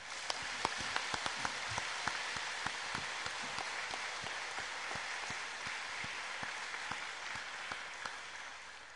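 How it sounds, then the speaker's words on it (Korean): A church congregation in Cheonan applauds at a New Year's Sunday service, sustained clapping from many people, with a few sharp individual claps standing out near the front and the sound tapering slightly at the end. "2017년 새해를 허락하신 하나님께 영광의 박수를 올려드리겠습니다"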